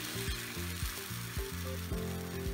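Eggless vegetable omelette batter sizzles softly as it is poured and spread in hot oil in a pan over a low gas flame, a faint steady frying hiss beneath louder rhythmic music.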